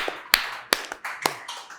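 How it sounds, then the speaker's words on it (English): Three sharp, separate hand claps from a single person at a public discussion event, evenly spaced and close, ringing briefly in a quiet room with faint background noise. "I'm going to clap for you."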